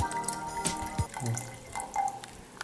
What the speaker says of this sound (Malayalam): വെള്ളം ഒഴിച്ചു നോക്കും